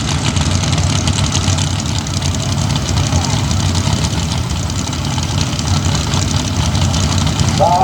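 Pro stock Jeep drag racers idling toward the staging beams at a drag strip, a steady loud rumbling engine drone under a commentator's voice.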